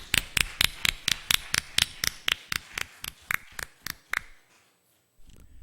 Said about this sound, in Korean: 박수로 우리 크게 영광을 올려드립니다.